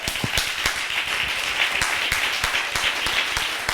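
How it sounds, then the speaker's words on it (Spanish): A live audience at a theatre studies event claps loudly and steadily in honour of Pedro G. Romero, a sustained wash of applause with sharper individual claps popping through for the full length. "Oye, un aplauso a Pedro G."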